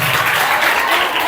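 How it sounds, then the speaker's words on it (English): A room of schoolchildren clapping for a classmate, a dense, steady patter of many small hands close by, filling the whole short moment without pause. "Oh, clap for him."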